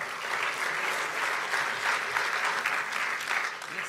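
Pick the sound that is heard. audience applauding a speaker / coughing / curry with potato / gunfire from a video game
audience applauding a speaker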